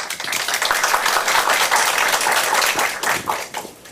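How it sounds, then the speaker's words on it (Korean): Audience at a cooperative forum in Namyangju applauds warmly to welcome the host to the stage, dense steady clapping filling the room for about four seconds before tapering off near the end. "사회자님을 힘찬 박수로 맞이해 주시기 바랍니다."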